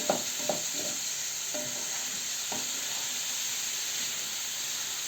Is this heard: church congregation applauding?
no